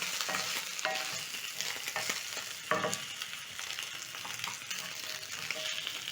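Pork fries in a cast iron pan with a steady, dense sizzle, stirred now and then with scraping clatter, close and fairly loud with no voices.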